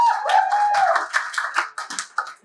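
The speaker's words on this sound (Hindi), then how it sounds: "सब ताली तो हो जाए दोस्तों" Audience applause at an open mic poetry and comedy event in Purnea, a dense burst of many hands clapping close by, steady through the whole stretch with a few sharper peaks and no talk.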